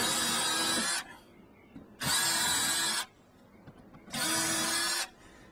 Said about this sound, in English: we're gonna drill two exterior holes out here